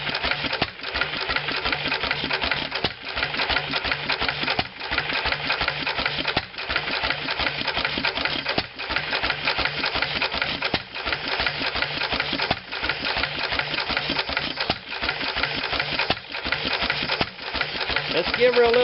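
McCormick-Deering stationary engine running alone at a steady rhythm, a loud continuous chuffing beat with regular firing pulses and brief periodic dips, close up.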